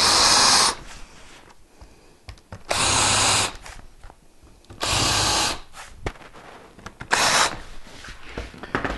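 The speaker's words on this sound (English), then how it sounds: "Okay, I drilled some pilot holes for the screws, and now I'll put in a countersink." A power drill bores countersinks for screws into wooden joints in a workshop, running in four loud separate bursts with quieter gaps of handling noise between them.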